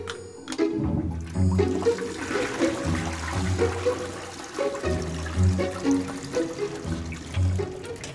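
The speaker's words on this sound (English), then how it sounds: "where does toilet water go once we flush it down the toilet?" A household toilet flushes with a broad rush of water running steadily for several seconds, mixed under background music with rhythmic bass notes.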